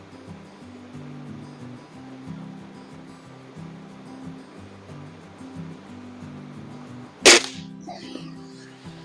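One sharp, loud shot from a Gamo Varmint air rifle, a single crack standing out over a steady outdoor background hum.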